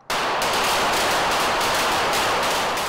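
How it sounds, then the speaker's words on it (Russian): Rapid pistol shots in a speed-shooting sport competition crack in quick succession, loud and close, their echoes blending into a continuous harsh roar. "На первом этаже девушки стреляли из пистолетов, причем очень быстро."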